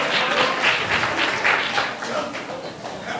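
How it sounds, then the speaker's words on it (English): Audience clapping for the first student presenter, an even, close wash of applause that swells slightly and holds steady throughout, with faint voices underneath. "Clap."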